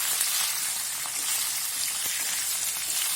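Okra (bende) masala frying in a pan gives a steady, even sizzle throughout, close and alone with no talking.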